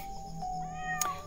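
A cat gives one short, close meow near the end of a quiet stretch outdoors, with a faint thin tone running underneath.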